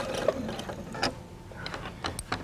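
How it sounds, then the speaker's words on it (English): A sewing machine stitches onto an anchor cloth while piecing a quilt block, a close, soft mechanical chatter of quick repeating clicks and whirs running in short uneven bursts. "Now sew onto an anchor cloth"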